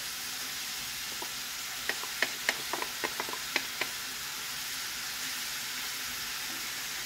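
Grated carrots sizzle steadily in a hot pan for a home meal-kit recipe, a constant close frying hiss with a short burst of light clicks and taps from stirring partway through.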